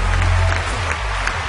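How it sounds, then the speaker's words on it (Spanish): Loud, steady audience applause at an elimination night of a TV talent show concert, dense clapping from a large crowd that fills the whole moment without pause, no spoken words. "Aplauso fuerte para Allison."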